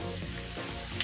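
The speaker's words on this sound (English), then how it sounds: "frying up finely diced bacon," Finely diced bacon, sliced chorizo and onion fry in a pan for Brazilian farofa, giving a dense, steady, close sizzle with a constant crackling hiss and no voices.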